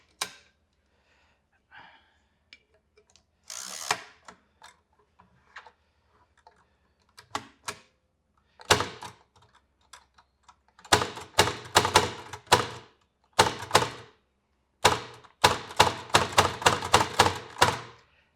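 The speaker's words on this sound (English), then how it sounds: "So guys, this is my brailler." A Perkins Brailler embossing braille, its keys striking in quick mechanical clacks and thunks, sparse at first and then in dense bursts with short pauses between them.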